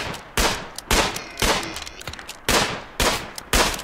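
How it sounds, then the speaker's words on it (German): Gunfire in the video game RimWorld: six evenly spaced, sharp shots at about half-second intervals, each with a short ringing tail, loud and alone with no talking. "Wo wird hier geschossen?"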